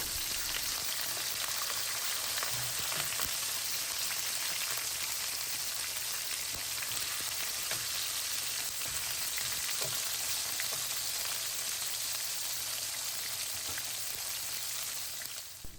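Pork leg meat searing in a pan for bistek, a soft, even sizzle running steadily throughout, fairly quiet and close, with no one talking.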